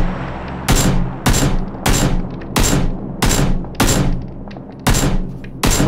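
Gunfire from the video game PUBG, seven loud, sharp shots fired at roughly even intervals, each with a brief ringing tail.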